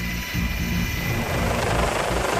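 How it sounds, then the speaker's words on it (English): A helicopter hovers close by, its rotor producing a steady, loud thudding drone throughout with no other sounds. "This involves lowering rescuers by cable from a hovering helicopter."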